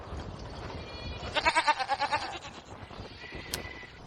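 Freshly shorn Valais sheep bleat on a windy day, a drawn-out wavering call rising mid-clip over constant gusting wind noise, with a brief fainter sound near the end.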